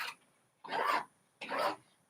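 Paint is scraped on an intuitive art piece in three short, rasping strokes, each about a third of a second long, close and quiet with pauses between.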